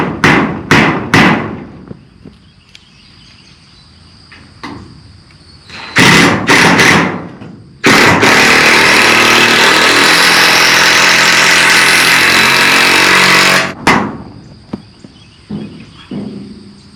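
A power drill drives screws into the wall of a cattle shelter shed on a farm: short bursts early, a few brief runs, then one loud sustained whirring run of about six seconds, with knocks and handling noises between.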